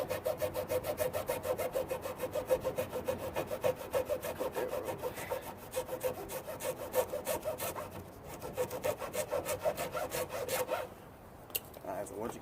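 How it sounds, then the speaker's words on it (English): An old hacksaw cuts through rope in rapid back-and-forth strokes, a close rhythmic rasping that goes on steadily and then breaks off with a brief pause near the end. "Just using the old hacksaw here."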